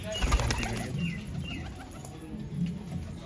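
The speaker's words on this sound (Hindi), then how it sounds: "कबूतर की मादी है" Pigeons at a Rohtak loft coo in soft, low repeated phrases while wings flap in brief bursts nearby, with someone talking quietly in the background.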